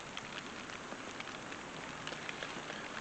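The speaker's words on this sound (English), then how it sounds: "but it's raining." Rain falling outdoors, a faint continuous patter of drops spread evenly throughout, with no voices.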